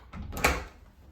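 A hotel room door at an Ibis Budget in Southampton swings open with a short knock-like clunk and a brief rustling sweep, heard close up and on its own.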